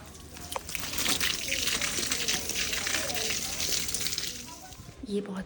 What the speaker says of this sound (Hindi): प्लांट्स को भी अभी पानी देना है, चलें प्लांट्स को पानी देते हैं।